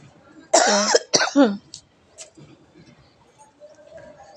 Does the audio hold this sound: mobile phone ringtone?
no